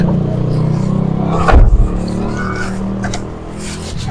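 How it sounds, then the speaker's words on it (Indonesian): A car engine runs steadily at close range, its low rumble swelling into a brief louder surge midway before settling back to an even hum. "Ya cing mobil lagi halus euy."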